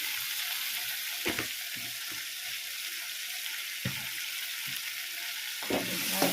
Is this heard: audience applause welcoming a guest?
no